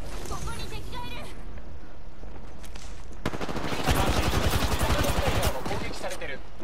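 Video game gunfire hits the player in a loud flurry of rapid automatic shots that bursts in partway through and keeps hammering to the end, following quieter game sounds and a voice speaking Japanese.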